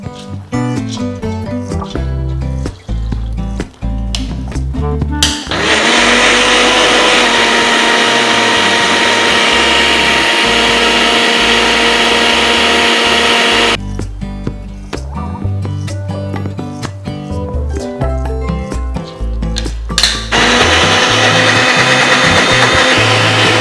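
A mixer grinder grinds soaked moong dal in two long, loud bursts of steady whirring, separated by stretches of quieter, choppier motor noise as the jar is worked.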